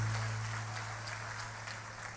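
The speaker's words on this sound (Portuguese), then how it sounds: "Os que podem, tomem o seu assento aplaudindo a Jesus" Church congregation applauding during a worship service, a steady wash of clapping from many hands throughout with a low hum underneath and no voices.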